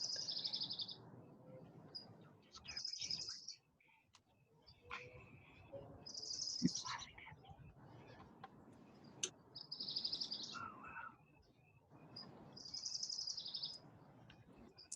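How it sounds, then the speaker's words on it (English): Birds chirp and sing outdoors in repeated short bright bursts every few seconds, fairly faint against a quiet background with occasional faint voices and movement. "I'm hearing the birds singing."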